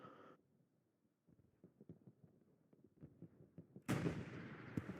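Gunfire in the competitive World War II shooter Hell Let Loose erupts as a loud, sudden burst after faint distant pops and footsteps, with sustained crackling noise following close by.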